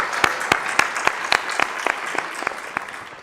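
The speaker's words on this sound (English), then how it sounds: "Give them a round of applause." Audience applause for forum speakers at a stakeholder meeting: a fairly small group claps together, with distinct overlapping hand strikes standing out in a loose rhythm, steady and moderately loud throughout.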